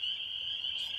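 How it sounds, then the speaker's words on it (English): Frogs call from a Wisconsin marsh at dusk, a dense, steady high-pitched chorus that holds unbroken throughout, with no voices over it. "the frog level, the frog noise, increases"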